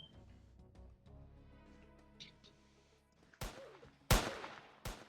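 Gunfire in a blind man's buff style video game: three sharp, loud shot bursts close together in the last two seconds, following quieter game sounds.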